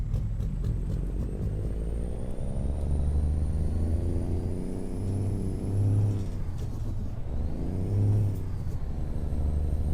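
Truck engine in American Truck Simulator, a heavy diesel rumble pulling a trailer in low gear, steady and loud with slow rises in revs and a brief lull in the middle.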